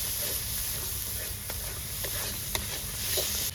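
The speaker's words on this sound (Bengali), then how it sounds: "সুন্দর করে মশলাটাকে কষাবো যতক্ষণ না তেল ছাড়ে।" Spice paste fries in hot oil in a pot with a steady, close hiss and sizzle, broken by a few soft scraping stirs of a spoon, with no talking.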